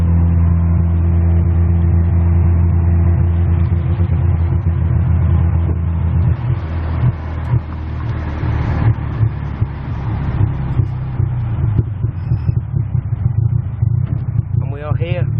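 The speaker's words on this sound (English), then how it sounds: "on the shortest tuk-tuk ride in history" A tuk-tuk carries a rider through the streets of Chiang Mai, Thailand, its engine holding a steady, loud low drone with rattles and passing traffic throughout, while voices are heard over the ride.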